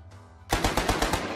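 Gunfire in Achtung! Cthulhu Tactics: after a short quiet pause, a rapid burst of about six or seven sharp, close machine-gun shots in quick rhythm, loud and alone.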